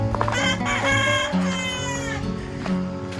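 Chickens clucking at a chicken coop along a hiking route in Crete, Greece, with several birds calling in overlapping bursts nearby, fairly loud and steady.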